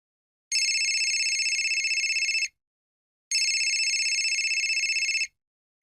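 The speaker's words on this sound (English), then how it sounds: "My mobile phone rang and I jumped out of bed." A mobile phone rings loudly and close by in two long electronic bursts separated by a short silence, with no voices.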